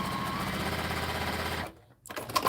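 A straight-stitch sewing machine pieces quilt fabric, a steady rapid whirring hum that runs continuously, then stops abruptly, followed by a few faint clicks and handling sounds.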